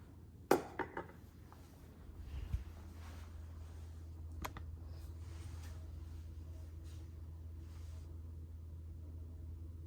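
Tofu and broccoli stirred in an Instant Pot: a few sharp clanks of a utensil against the metal pot near the start, then a softer knock, followed by a steady low hum of the cooker heating.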